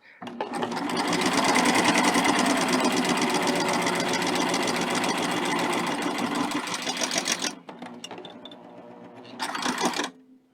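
A sewing machine runs steadily and loudly for about seven seconds while stitching a quilt binding with a knit woven double fold bias binder attachment, then pauses and makes a short final burst.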